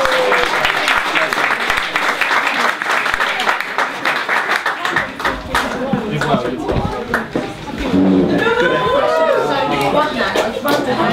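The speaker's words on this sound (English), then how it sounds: "Round of applause for all of our contestants." An audience applauds contestants at a live event, with dense clapping filling the first half before a presenter's voice takes over amid lingering scattered claps and crowd murmur.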